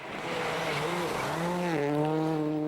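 Rally car engine running steadily loud on a long snowy special stage in Sweden, the engine note rising and falling through gear changes with harmonic whine, continuous and close.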